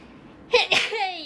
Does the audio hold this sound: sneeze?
yes